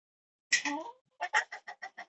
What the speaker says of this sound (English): I see a rooster and several hens in a dirt yard.